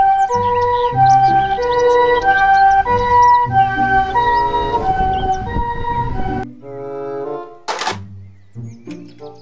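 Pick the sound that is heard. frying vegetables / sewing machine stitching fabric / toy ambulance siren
toy ambulance siren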